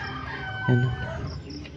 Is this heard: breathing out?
no